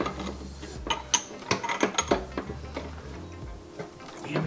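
The crank and transmission gears of an 85-89 250R motor turn inside freshly joined center cases, giving a brief run of close, irregular ratcheting clicks and gear ticks.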